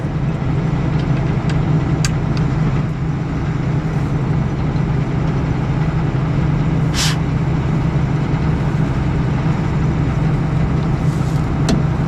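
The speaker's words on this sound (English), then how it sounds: "We're cruising, the reel's turning." A combine harvester runs during a soybean harvest, its engine a loud, steady low drone close by, with a few brief clicks and rattles on top.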